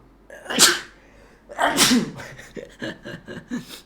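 A male teacher sneezes twice in quick succession during a Thai high-school math lesson on truth tables; both sneezes are loud and close, followed by softer breathy sounds.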